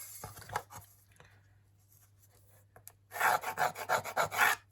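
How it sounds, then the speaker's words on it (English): A file rasps across a Mk1 Escort bulkhead harness panel plate in a few scattered strokes, then a quick run of about eight rhythmic, close rough strokes. "So what I will do is just rough lap that out."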